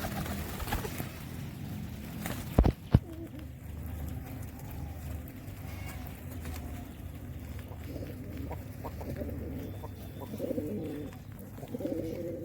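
Pigeons in a coop loft coo softly and steadily as a male chases a female toward the nest, with a couple of sharp knocks early on and faint rustling throughout.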